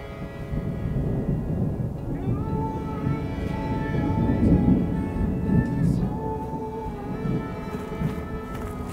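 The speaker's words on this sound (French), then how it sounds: "la foudre tombe vraiment trop derrière la colline" Thunder from a storm over hills with wind turbines, a deep, rolling rumble that swells toward the middle and fades, heard at a distance with no one speaking.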